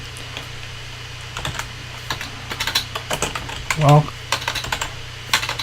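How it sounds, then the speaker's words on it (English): Typing on a computer keyboard: clusters of quick, close key clicks in uneven bursts, with someone speaking briefly between them. "I'm not typing very well here."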